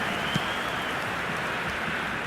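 Stadium crowd in eFootball 2026, a steady broad roar of cheering and murmuring that holds at an even level throughout, with no distinct peaks.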